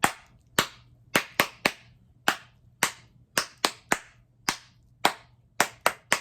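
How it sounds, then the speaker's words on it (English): Children at a Bingo song storytime clap in sharp, close, distinct bursts, several separate groups of claps with short pauses between them, clean and without talking. "So we're going to clap for B, I, N, G, and O. 5 claps."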